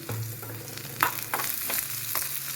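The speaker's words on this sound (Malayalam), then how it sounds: "കുറച്ച് എണ്ണയാണ് ഒഴിച്ചിട്ടുള്ളത് നമ്മുടെ തേങ്ങ മൂത്ത് വന്നിട്ടുണ്ട്" Grated coconut roasts in a small amount of oil for a Kerala koottukari, giving a steady close sizzle broken by a few soft scraping stirs, with no voices.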